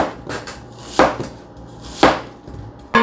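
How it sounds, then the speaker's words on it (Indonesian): A knife cutting through a dragon fruit, three sharp chopping thuds about a second apart against a board or plate, each with a brief crisp attack, close and clear with quiet gaps between. "Motong buah naga."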